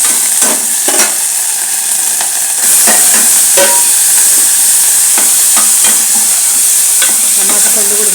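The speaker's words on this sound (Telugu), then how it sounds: "అల్లం వెల్లుల్లి పేస్ట్ వేసేస్తాను." Ginger garlic paste sizzles and fries in a hot pan while being stirred for a Rayalaseema-style chicken curry, a loud continuous hiss broken by repeated scraping stirs, with no talking.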